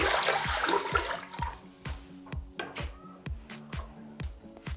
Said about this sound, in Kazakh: ең алғаш қазанымызға суымызды құйып аламыз